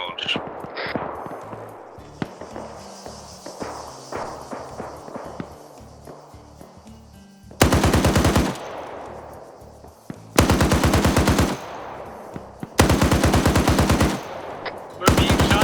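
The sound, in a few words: gunfire and machine gun shots in a military video game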